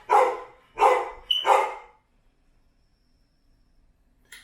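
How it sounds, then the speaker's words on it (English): A pet dog named Durham barks three times in quick succession, close and loud, then silence follows, with a faint sound at the very end. "That is our dog."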